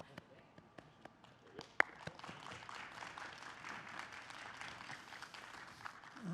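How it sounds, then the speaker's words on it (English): An audience claps after a high school debate on state-guaranteed housing in Nevada, with a few scattered early claps building into steady, fairly faint applause that continues to the end. "I appreciate your clapping"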